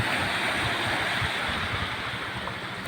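Rough, wave-driven sea surf breaking along the shore at low tide under dark, rain-threatening skies, a continuous loud wash of rolling water with gusty wind noise, no talking.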